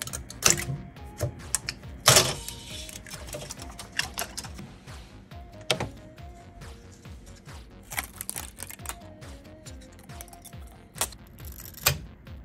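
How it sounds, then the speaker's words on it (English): 3D-printed parts are pulled off a printer's print bed, giving a close series of sharp cracks, snaps and clicks at uneven intervals with quieter scraping in between. "it's time for the best part, peeling them off of the bed."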